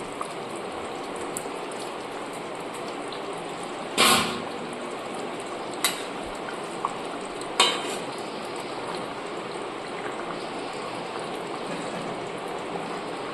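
Fried chitol fish simmer in a kalia curry, a steady close bubbling sizzle broken by a few clanks of a utensil against the pan as the fish is added and stirred.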